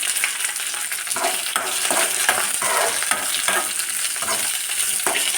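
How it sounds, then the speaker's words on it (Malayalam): Chopped onions, shallots, ginger and green chillies fry in a pan for Palakkad-style mulak varutha puli, with a loud steady sizzle and repeated scraping stirring strokes throughout. "ഇനി ഇതിലേക്ക് സവാളയും ചുവന്നുള്ളിയും ഇഞ്ചിയും പച്ചമുളകും എല്ലാം അരിഞ്ഞു വെച്ചില്ലേ അതിട്ട് കൊടുക്കാം."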